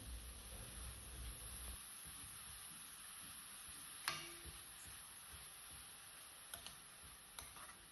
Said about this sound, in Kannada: ಮೆಂತ್ಯ ಸೊಪ್ಪನ್ನ ಲೋ ಫ್ಲೇಮಲ್ಲೇ ಈ ಥರ ಚೆನ್ನಾಗಿ ಫ್ರೈ ಮಾಡಿ.